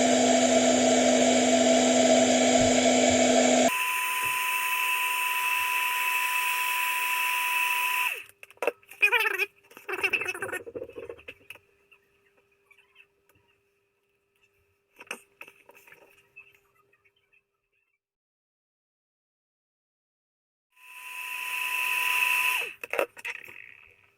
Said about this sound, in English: a hairdryer, and we're going to put some heat on that lens